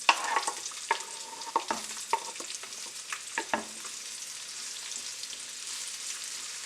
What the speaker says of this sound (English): Here I have 2 tablespoons of vegetable oil just on medium heating. To it I'm going to add our sliced onions.